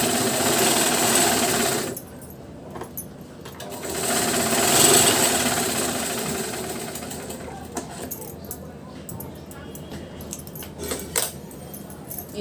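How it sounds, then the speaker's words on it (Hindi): A sewing machine running in bursts while stitching a blouse sleeve, its rapid mechanical chatter strong at first, then pausing and resuming amid clicks and handling noises. "ये देखिए इसी तरह से हमने ये वाली आस्तीन भी सिल ली है"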